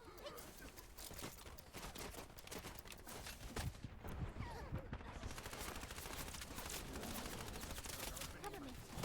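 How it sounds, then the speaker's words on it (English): Dense gunfire in the shooter game Wild Assault, rapid automatic bursts and overlapping shots rattling continuously throughout, with voices talking over the battle. "Friends are taking fire."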